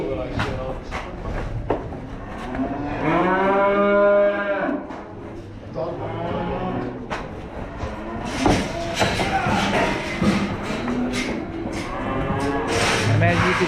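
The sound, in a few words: cattle and calves at a feeder auction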